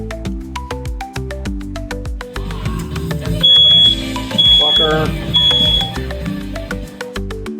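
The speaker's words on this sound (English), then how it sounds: "The fire alarm will usually tell you when the bacon's ready." A home smoke alarm shrills in repeated beeps while bacon cooks in a kitchen, the piercing tones cutting over music and a voice that speaks briefly.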